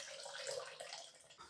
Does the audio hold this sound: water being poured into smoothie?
yes